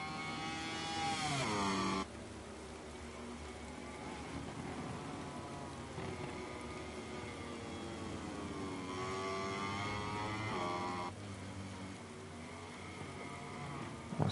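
Ducati racing motorcycles in a racing video game scream down a long straight at Valencia, engines revving high and steady with loud rising and falling pitch sweeps as bikes pass close by and shift gears.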